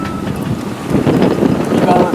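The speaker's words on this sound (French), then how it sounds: "Il y a tellement de vent" Strong wind buffets a sailboat, a steady roar of gusts battering the microphone that swells louder midway, with a voice briefly speaking under the noise.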